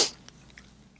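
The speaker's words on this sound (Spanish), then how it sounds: "Quita los estornudos." A single sharp sneeze bursts out at the very start, loud and close, then fades into near silence with only faint small ticks after.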